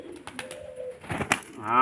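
A racing pigeon, tired after a training flight, gives soft, close, low cooing calls in short repeated bursts, with faint voices and other sounds nearby.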